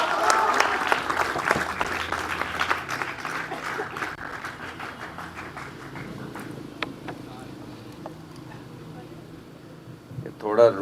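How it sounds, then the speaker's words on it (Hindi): A crowd at a defence academy's Republic Day celebration claps steadily, the applause loud at first and gradually thinning, with a few voices mixed in near the end. "आप तालियों से स्वागत कीजिए"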